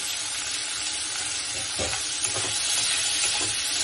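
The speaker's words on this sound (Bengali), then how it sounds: "একটা পেঁয়াজ আমি এর মধ্যে দিয়ে দেবো। একটু ভাজা ভাজা করবো।" Onion frying in a pan gives a soft, steady sizzle with a few low stirring scrapes partway through.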